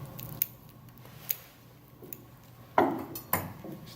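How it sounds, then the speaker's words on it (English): Surgical scissors cutting a vascular pedicle during a simulated operation, several sharp, close metallic snips spaced irregularly, the last two louder, with quiet between. "then I'm going to cut the pedicle, again with leaving a lot of tissue on the pedicle"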